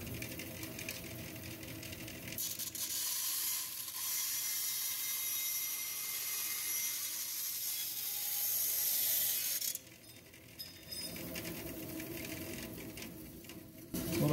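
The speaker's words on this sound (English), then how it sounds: "you can put a bimetal blade on it, and then works fine for steel and aluminum also" A wood bandsaw fitted with a bimetal blade cuts steel or aluminum while building ramp stands. The hissing cut is faint and steady, then drops off partway through before resuming quietly.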